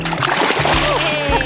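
A person jumps into a creek at Bitter Springs, a natural swimming spot, making a sharp close splash followed by sloshing water, with voices talking over it.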